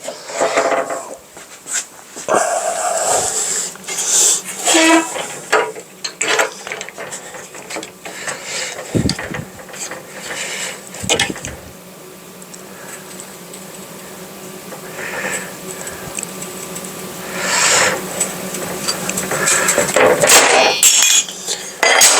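Raimondi T-shaped manual tile cutter scoring a large-format 1.2 m thick porcelain tile, a steady scraping and grinding run with scattered clicks and knocks, fairly close and continuous, rising in intensity toward the end.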